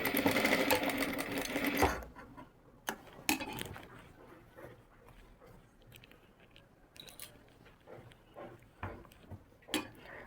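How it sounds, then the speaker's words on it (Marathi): A sewing machine runs in a loud whirring burst, then gives a string of slow single stitches with clicks and pauses while a palazzo pant pocket is double back-stitched. "जिथे खडूची खून केली होती तिथेच मी शिवून घेते डबल बॅक स्टिच करून"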